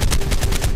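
Gunfire from the game Ark comes in a rapid, loud burst of about six close-range shots over less than a second.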